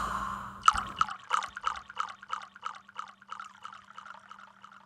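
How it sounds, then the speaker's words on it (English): Wine pours from a bottle with an echo effect added, a splashy start followed by a run of rhythmic gurgling glugs that fade in a reverberant tail. "Wine pouring echo."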